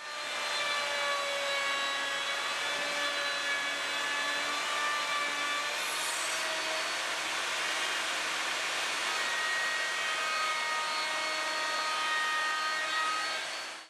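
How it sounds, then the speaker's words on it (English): A router cutting a 1/2 inch wide, 3/8 inch deep rabbet in a panel for a roll-around cutoff cart: a loud, steady high-pitched whine held at constant pitch for the whole stretch, close and uninterrupted, with no talking. "now that I got my router set up, I'm going to cut a 1/2 inch rabbit"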